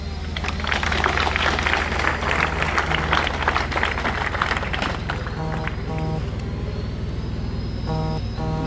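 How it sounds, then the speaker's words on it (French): Exam finalists applauding loudly outdoors on a cool morning, a dense burst of clapping that fades after about five seconds into a steady low hum. "chers finalistes, de vaincre un peu la fraîcheur de ce matin en applaudissant très fortement pour vous-même"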